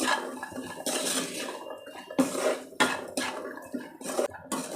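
Metal pan and utensil clatter while green pea filling with salt is stirred and sautéed for Maharashtrian matar karanji, with repeated sharp scraping and clinking strokes, close and fairly loud, no voices.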